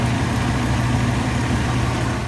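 A 2000 Ford Excursion Limited 4x4 with the 6.8-litre V10 idles steadily, a loud, even low rumble with no revving and no voices.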